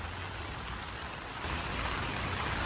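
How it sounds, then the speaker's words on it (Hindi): Steady light rain falls outdoors near a medical college in Ner Chowk, Himachal Pradesh, a continuous even hiss of drops with no voices. "धीमी धीमी बारिश लगी हुई है यहाँ पे।"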